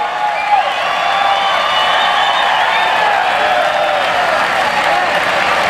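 A rough truck racing crowd in Tuscarawas County gives a driver sustained, dense applause mixed with cheers and whistles, holding at a steady loud level throughout.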